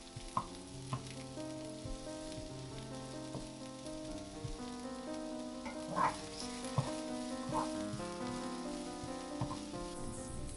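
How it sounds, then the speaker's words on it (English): Shallots frying in an oil-filled pan, giving a soft, steady sizzle with scattered pops and light crackles, fairly close but quiet, with no voices over it. "I'm dropping in my shallots, then making sure to spread those evenly across the surface of the pan. I'm gonna let these caramelize and get soft"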